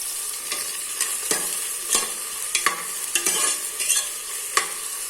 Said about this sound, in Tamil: இப்போ இதை லைட்டாக வதக்கி விட்டுக்கலாம். பொன்னிறமாக வர்ற வரைக்கும் வதக்கணும்.